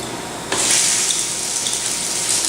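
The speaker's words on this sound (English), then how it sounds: "Hear that sizzle." Chicken sausage drops into a hot pan and starts sizzling, a sudden loud burst of steady, bright frying hiss that carries on evenly with no talk over it.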